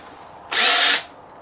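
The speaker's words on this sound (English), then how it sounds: "I'm going to start off with our drill bit" A power drill with a drill bit starts a center hole in a lawn care trailer lock. A single loud, close whine lasts about half a second, then cuts off into quiet.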